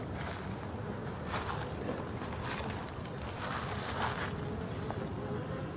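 Honey bees from a forest apiary buzz steadily around their hive on a warm day, a dense continuous hum close by with faint wind in the background.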